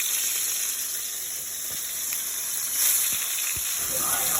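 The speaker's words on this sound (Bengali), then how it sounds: "মাছটা আমি এখন ভেজে নিচ্ছি।" Small freshwater fish, rubbed with turmeric and salt, sizzling in hot oil in a pan, a steady close hiss with a few faint clinks from stirring.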